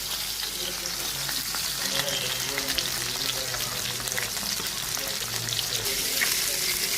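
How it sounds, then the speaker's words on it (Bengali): Fish frying in hot oil, a dense, loud, continuous crackling sizzle close by, with a faint voice murmuring underneath. "এই মাছটা ছেলের জন্য ভাজতেছি"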